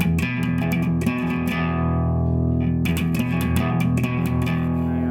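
A low, driven bass guitar riff repeats an E pedal note with quick picked notes in between, steady rhythm, close and fairly loud.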